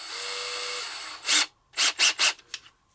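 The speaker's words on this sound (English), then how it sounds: "The drill I happen to have, hopefully this is a 7/64 drill." A power drill with a 7/64 inch bit whirs steadily into soft, brittle plexiglass, then falls quiet before several short, scratchy bursts of the bit biting and rasping through the sheet.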